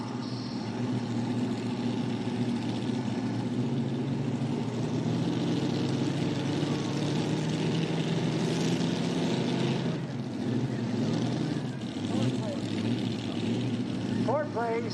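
A modified pulling tractor, driven by Craig Sage, backs up to the sled at a tractor pull in Wauseon, Ohio, its engine a steady low rumble under an announcer speaking over a PA.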